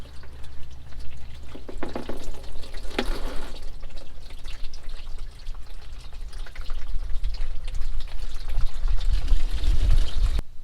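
Warm engine oil drains out of a truck in a continuous splashing pour with trickling and dripping, steady throughout and slightly heavier near the end.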